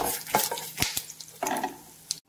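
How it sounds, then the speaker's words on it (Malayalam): Cumin seeds and spices stirred in a hot frying pan, a close run of scraping strokes and light clinks over a soft sizzle, stopping abruptly at the end. "ഇതൊക്കെ കൂടി ഒന്ന് നമുക്ക് ഇളക്കി കൊടുക്കാം."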